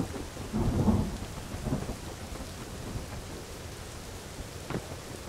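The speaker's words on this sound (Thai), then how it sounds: "ฝนตกหนักมาก มันทำให้การฟังเสียงของเรานั้นยากขึ้นเนี่ย" Heavy rain pours steadily in the game Ring of Elysium, with a loud rumble of thunder swelling early and fading into a continuous hiss, plus a faint sharp crack near the end.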